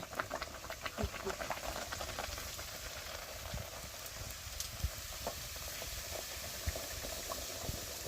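Puri frying in hot oil over a wood fire in a pahadi village, a steady soft sizzle and bubbling with faint crackles, held at low volume throughout.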